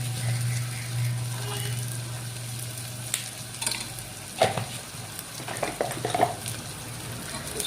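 Whole cardamom pods, cloves and cinnamon sizzling in cooking oil in a pan for a mutton biryani, a steady soft frying hiss with a low hum and occasional clinks and scrapes of stirring.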